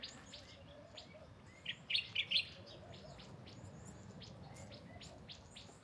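Red-cheeked cordon-bleu finch giving a few short high chirps near the middle, faint over a steady bed of insect and outdoor ambience.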